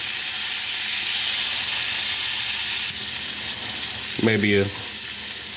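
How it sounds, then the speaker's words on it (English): Minced garlic frying in butter in a large skillet over low heat gives a steady, soft sizzle throughout, with a brief spoken word near the end. "I got about 2-3 tablespoons of butter in a large skillet on a low heat. We're gonna add about 2-3 cloves of minced garlic."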